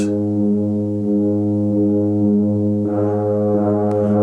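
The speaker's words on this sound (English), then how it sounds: "the tuba, which is a really big guy of the brass section. And he just plays some really low bass sounds" A low, sustained tuba tone holds steady with strong harmonics, a deep bass note droning without pause and a slight swell near the end.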